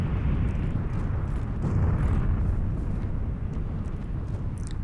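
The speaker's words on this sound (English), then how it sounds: "those explosions we hear, that's coming from the red zone" Bombardment rumbles in the red zone of PLAYERUNKNOWN'S BATTLEGROUNDS on PC: a continuous deep, booming roar of distant explosions with heavy low-end rumble, loud and sustained throughout.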